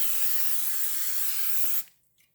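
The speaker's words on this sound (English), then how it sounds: "I have my donut pan here. I'm going to cover that with some extra virgin olive oil." A steady, close spray of extra virgin olive oil misting onto a donut pan, one continuous hiss lasting nearly two seconds before cutting off abruptly into quiet.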